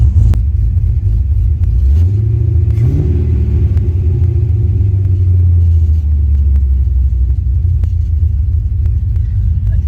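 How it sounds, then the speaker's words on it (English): A wagon's engine fitted with a mild aftermarket cam idles with a steady, lumpy low rumble, briefly rising in pitch in a short rev early on before settling back to the loping idle. "So if you're wondering why it has a little lump, that's why. I did put a cam in there."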